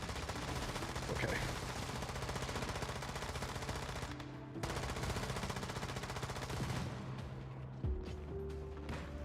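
Sustained automatic gunfire in the survival shooter Once Human, a dense continuous rattle of rapid shots with a brief pause, continuing loud beneath faint talk.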